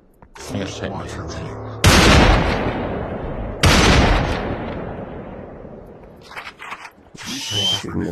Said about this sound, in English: Shooting the side of the building